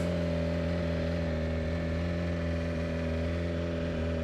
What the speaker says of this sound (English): We're going to fire it up, and it comes to life.